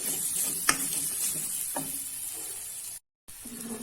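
Galangal, lemongrass, lime leaves and bay leaves sizzle steadily in hot oil, broken by a few sharp scraping stirs of a utensil in the pan and a brief dropout near the end.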